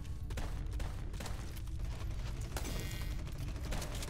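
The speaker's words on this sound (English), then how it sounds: "Reloading." A weapon reloading in the top-down shooter Red Solstice 2: Survivors, mechanical clicks and ratcheting amid steady game noise and intermittent shots, no talking.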